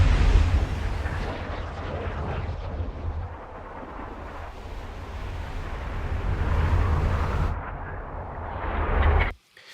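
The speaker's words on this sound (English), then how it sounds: "some whooshes and flying of the projectile" Airy whooshes and rushing flight of a projectile hurled by a wooden trebuchet in Kingdom Come Deliverance 2, a dense, booming roar that swells and sustains for nearly ten seconds before cutting off abruptly.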